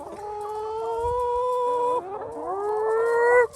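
Chickens clucking and squawking up close, a few drawn-out tonal calls with pitch shifts over a quiet background.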